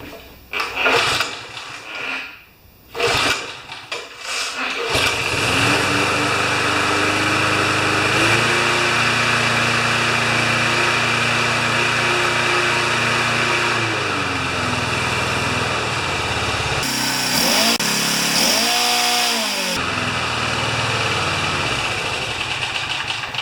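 A few clunks and rattles, then an older twin-cylinder Briggs & Stratton lawn mower engine with automatic choke starts and runs at a steady, loud idle, revving up briefly near the end.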